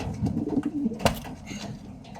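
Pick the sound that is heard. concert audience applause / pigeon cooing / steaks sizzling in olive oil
pigeon cooing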